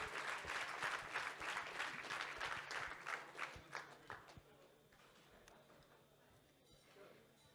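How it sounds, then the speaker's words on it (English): Applause for athletes leaving the stage at a world masters powerlifting championship: a crowd claps briskly for a few seconds, then the clapping thins out to scattered claps and fades into quiet room noise, with a voice speaking over it. "And another round of applause for our athletes as they exit the stage"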